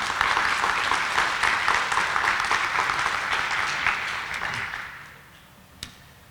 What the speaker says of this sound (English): Can everyone give a quick round of applause for Dr. Kelly Williams?